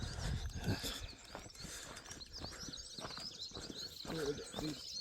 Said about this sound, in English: All you can hear is birds chirping